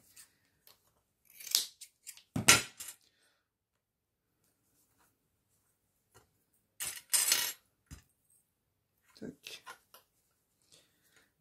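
Fabric being cut with sewing scissors while a belt bag is made, in a few short crisp snips spaced by quiet pauses, close and clear.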